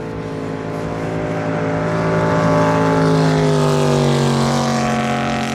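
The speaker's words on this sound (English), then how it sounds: "On the way back down though, Justin Hill drove the sponsons off that boat" A hydroplane racing boat's engine roars past on a river, its droning pitch sliding as it approaches and moves on, loud and steady throughout.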